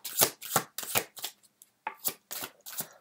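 Tarot cards shuffled and laid out on a table, a quiet series of about eight crisp riffling swishes and slaps in an even rhythm, close and alone with no talking.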